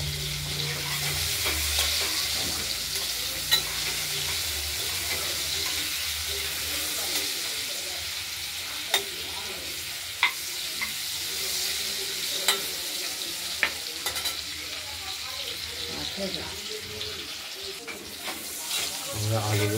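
New potatoes fry with turmeric in spiced oil, hissing in a steady sizzle while a spoon or spatula scrapes and stirs them now and then with sharp clicks against the pan, close and moderately quiet.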